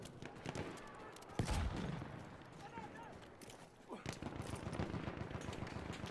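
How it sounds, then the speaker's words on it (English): Rapid bursts of automatic gunfire and single shots ring out during a team deathmatch match in Mandragon Storm, with a sharp loud crack near the start and busy crackling fire under a speaking voice. "Oh, I hear gunshots."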